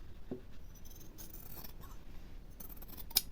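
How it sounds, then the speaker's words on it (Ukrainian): A few quiet snips of scissors cutting excess faux leather from a skirt waistband, brief sharp cuts against a faint background. "Зайве зрізаю."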